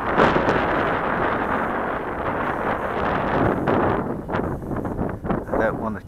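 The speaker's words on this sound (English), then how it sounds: "very windy." Strong wind buffeting a microphone outdoors during a model glider flight: loud, continuous blustery roar that surges and dips, with gusty bursts toward the end.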